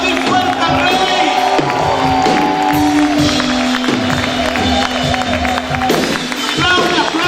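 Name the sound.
congregation shouting and applauding loudly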